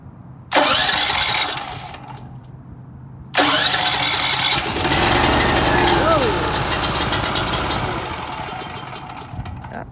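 A Champion dual fuel generator running on propane starts twice: a first short burst of engine noise dies after about a second, then a second pull catches and the engine runs loudly and steadily, settling slightly, while people talk over it.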